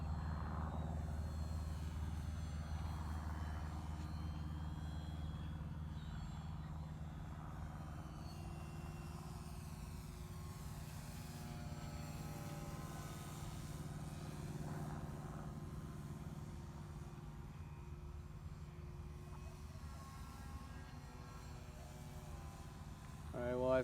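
An RC Spitfire model airplane flies outdoors, its electric motor and propeller giving a continuous, moderately distant drone that rises and falls in pitch as it turns and passes, with occasional talk.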